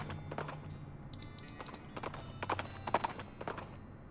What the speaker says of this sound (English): Dang horse.